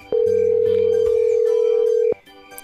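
A telephone rings with one long, loud, steady electronic tone lasting about two seconds, alone and close, stopping abruptly before a quiet room.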